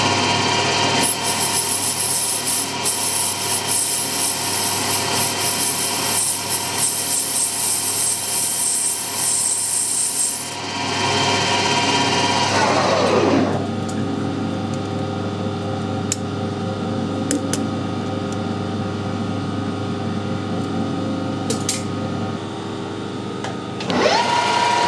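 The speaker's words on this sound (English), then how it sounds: "Take a 1mm cut, pop another side." A metal lathe takes a 1mm cut on a ball turner part, a steady loud grinding whine holding for about ten seconds, then a brief sweep down in pitch as the machine changes, and a lower, steady running tone to the end.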